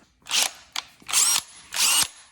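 Cordless drill whirring in three short bursts while backing a screw out of wood, each burst loud and close with a brief pause between, and no talking.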